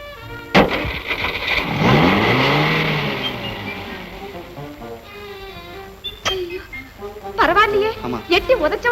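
A car engine catches after being kicked and revs, climbing and falling in pitch through a few loud surges, with people talking over it and a horn-like tone near the end.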